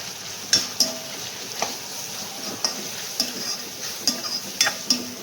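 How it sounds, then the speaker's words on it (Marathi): Onion and tomato with turmeric and Agri Koli masala fry in a pan under a steady soft sizzle. A spoon stirs them with repeated scraping clacks against the pan, close by and with no talk. "कांदा टोमॅटो चांगलं फ्राय होऊन घ्यायचं"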